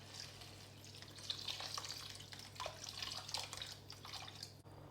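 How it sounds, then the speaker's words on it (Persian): Chicken stock poured into a pan of toasted, spiced rice for a Spanish seafood paella, giving a steady liquid splash and bubbling sizzle that runs continuously for several seconds, close up and with no talking. "الان بهش آب مرغ رو اضافه میکنم"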